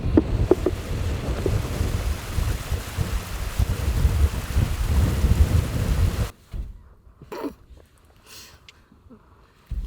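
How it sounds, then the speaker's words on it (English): Strong wind buffets the microphone outdoors in Scotland, a loud continuous roaring rush for about six seconds before cutting to a much quieter scene with faint scattered sounds. "A little windy out there."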